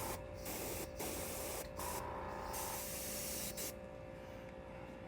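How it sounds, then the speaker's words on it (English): Airbrush spraying paint onto a Battletech ComStar King Crab miniature: a steady close hiss broken by several brief pauses between bursts, with no talk. "And we can do this by kind of maintaining the angle we spray, so that we're minimizing where things go that we don't want it going."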